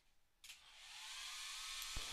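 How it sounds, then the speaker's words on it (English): A hair dryer blows on a watercolor painting of a boat on water after a short click, building into a steady, airy whoosh that holds at a soft, even level. "Now I am going to hit this with a hairdryer before the next step"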